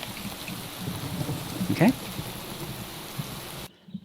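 Rain falls in Minecraft with the Dawncraft modpack, a steady soft hiss of drops throughout. A voice speaks briefly partway through, and the sound cuts off abruptly near the end.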